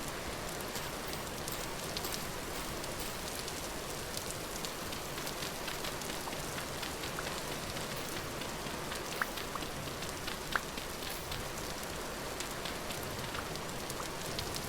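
Rain falls steadily in the Vintage Story video game, an even, continuous hiss of drops on surfaces with a few brighter taps, soft and unbroken with no voices.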